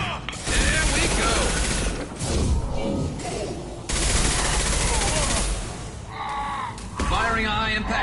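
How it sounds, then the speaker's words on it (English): Bursts of rapid gunfire and mechanical weapon clatter from the video game Mass Effect Legendary Edition on PlayStation 5, loud and close, broken by brief pauses, with game voices speaking in between. "Firing a high-impact shot."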